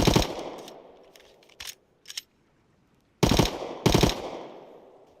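Gunfire from hip firing a weapon in the video game Rust on console, loud sharp bursts with ringing decay, a couple of quieter shots, a pause, then two heavy close shots.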